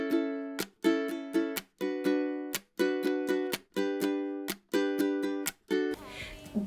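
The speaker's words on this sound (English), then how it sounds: "the very first thing I did was lay down the main ukulele part." Main ukulele part on a Kala striped ebony tenor ukulele: rhythmic strummed chords in repeating bursts with short crisp stops between them, close and clear, ending in a brief noisy shuffle.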